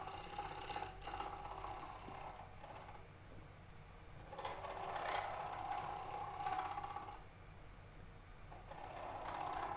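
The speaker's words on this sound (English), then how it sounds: "here you can see I'm just shaving away that high spot, just making really light passes to merge those two cuts together" A bowl gouge takes light shaving passes on a dry live edge wooden bowl spinning on a lathe, a quiet scraping, hissing cut that swells and fades in waves over the steady hum of the machine.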